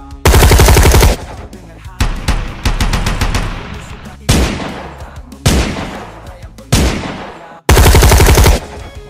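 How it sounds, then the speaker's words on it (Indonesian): Loud bursts of rapid machine-gun fire at sea, several volleys separated by short gaps, each ringing out and echoing as it fades. "rentetan tembakan tiba-tiba memecah kesunyian laut"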